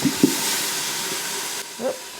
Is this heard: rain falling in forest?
no